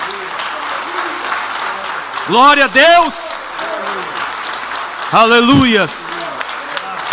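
A church congregation keeps up continuous applause during worship, and two loud voices shout praise over it partway through.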